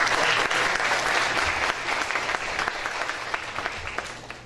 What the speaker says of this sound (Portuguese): Por favor, uma salva de palmas para ela.